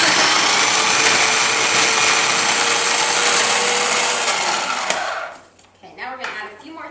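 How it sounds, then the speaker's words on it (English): A kitchen blender whirs loudly and steadily as it purees rough-chopped tomatillos, then cuts off near the end, leaving brief clattering and a voice. "So now we want to get our blender going. Get those tomatillos."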